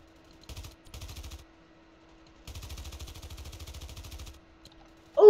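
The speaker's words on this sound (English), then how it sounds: "when you're full auto firing" A gun firing on full auto, heard as three separate rapid bursts of sharp, evenly spaced shots with short silences between them, followed by a sudden loud noise at the very end.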